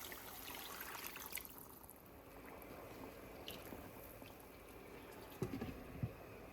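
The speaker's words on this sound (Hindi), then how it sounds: "इसमें 2 गिलास पानी डाल लेते हैं।" Water poured from a glass into a pot of chicken and bottle gourd cooking in oil and yogurt, a soft steady trickle and sizzle with a few louder splashes near the end, close by with no talk.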